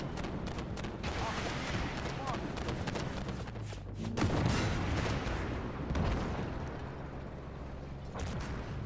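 Gunfire in a video game tank battle, faint repeated thumps and cannon booms over a low engine rumble, with a heavier blast midway and a voice talking quietly over it.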